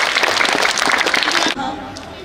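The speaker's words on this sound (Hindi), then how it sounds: "please welcome them with a big round of applause" A crowd of audience members bursts into loud, dense applause to welcome a teachers' skit at a Dussehra celebration, the clapping abruptly cutting off partway through.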